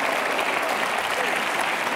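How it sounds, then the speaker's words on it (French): An audience applauds continuously and loudly, a dense wash of clapping that fills the whole moment without a break. "Applaudissez quand même."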